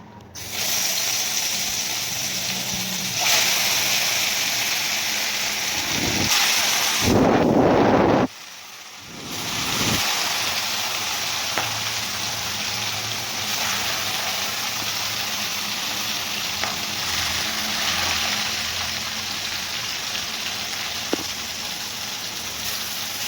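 Fish fries in hot oil with a steady, loud hiss and sizzle throughout, briefly interrupted by a bubbling splash before settling back into constant crackling.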